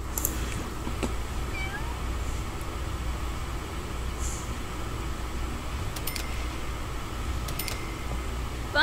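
A kitten in The Sims 4 Cats & Dogs game gives a few short, thin meows over a steady background hum, with brief clicks scattered through.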